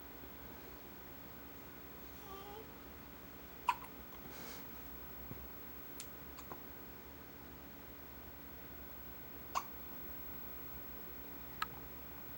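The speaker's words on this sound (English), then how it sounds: "Got a few hiccups." A newborn baby's hiccups, shortly after feeding: a few faint, sharp isolated hics spaced irregularly over a quiet room hiss.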